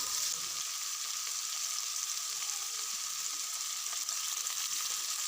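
Tomatoes frying in a pan while cooking a simple goat meat curry, a steady, loud, continuous sizzle that holds evenly throughout with no talking.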